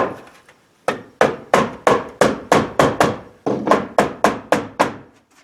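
Oak trim cut from used pallets is tapped into place around a window with a hammer, about a dozen sharp, loud wooden knocks in a steady rhythm with a short pause in the middle.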